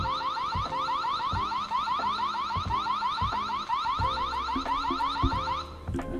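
A Xiaomi CW500 dual CCTV security camera's alarm siren wails continuously in a rapid repeating sweep, loud and close, with steady thumping pulses underneath and no talking.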